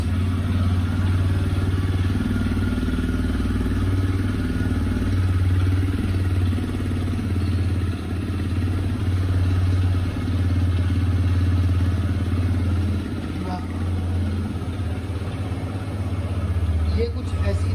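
A TVS Raider motorcycle with 10,000 km on it settles into a low, steady, fairly quiet idle after a kickless start, the engine close and even with a slight throb, while someone talks over it.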